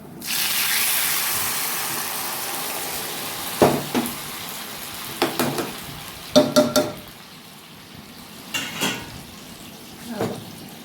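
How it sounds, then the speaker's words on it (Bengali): Dal tipped into a pan of sizzling tempering (phoron) for an Odisha mixed veg dal: a steady fry hiss broken by several sharp clatters of a spoon against the pan. "ফোড়ন ভাজা ভাজা হয়ে গেছে, এবার আমি সামান্য ডাল এর মধ্যে দিয়ে নেব"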